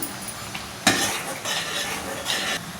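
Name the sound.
stirring dal khichda in a pot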